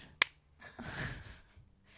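A single sharp hand clap cracks once near the start, close and distinct, followed by quiet breathy room sound.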